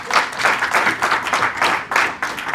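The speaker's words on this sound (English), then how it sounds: "I think we need to give them an applause" Applause from a school audience honouring primary school principals at a celebration event, a dense run of clapping with pulsing swells, fairly loud and close, with no talk over it.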